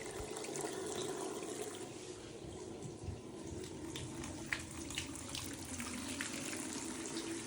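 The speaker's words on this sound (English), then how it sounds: "Wow, hot water from both taps." Hot water runs steadily from a household tap fed by a Y-plan tank system, a soft, continuous rushing splash into a sink at low, even volume with no talking.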